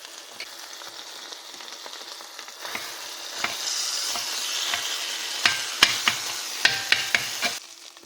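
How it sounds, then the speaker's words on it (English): Chopped cheese meat and melting cheese sizzle steadily on a flat griddle while a French scraper chops through it, leaving a run of sharp metallic clacks near the end. "Add that cheese, let that get melted, and then we'll start chopping away."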